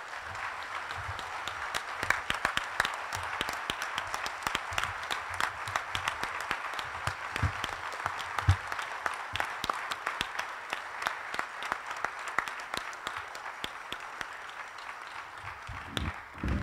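An audience at a Martin Luther King Jr. commemoration event keeps up a long, even round of applause, many hands clapping steadily at moderate loudness for the whole stretch.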